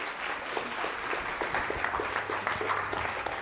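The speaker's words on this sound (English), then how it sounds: "Big round of applause for Dr." Audience applause for a guest speaker at a talk on coral breeding, steady dense clapping from a medium-sized crowd, moderately loud and continuous throughout.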